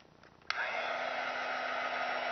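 A heat gun clicks on for embossing and settles into a steady, moderately close whooshing blow with a faint tonal hum, running without any talk.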